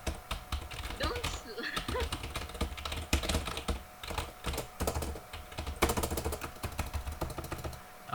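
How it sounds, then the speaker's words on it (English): A full-size Microsoft Internet keyboard being typed on continuously, dense clattering keystrokes with a rubbery membrane feel, close up and steady throughout, with a voice talking faintly underneath. "Listen to the keyboard sounds."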